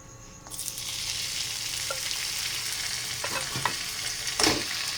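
Chicken masala mixture for chicken chukka fries in a spoonful of hot oil, giving a loud, continuous sizzle with occasional spoon scrapes as it is stirred.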